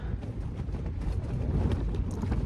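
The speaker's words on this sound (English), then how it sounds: "Wind's picking up, just measured it." Wind gusting across a foggy Dartmoor campsite, a steady broadband rush buffeting the microphone with low rumble throughout, no voices.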